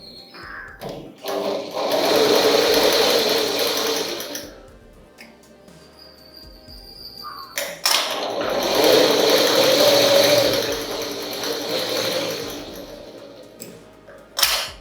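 A sewing machine stitching fabric in two long, steady runs of rapid, close whirring, with a quieter stretch of handling noise between them and a sharp knock at the end.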